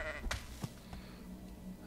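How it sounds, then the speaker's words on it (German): A sheep in the game Sky Saga being killed gives a short bleat followed by a couple of quick impact sounds, moderately loud and then fading into quiet background ambience. "Wir werden mal testweise ein Schaf töten."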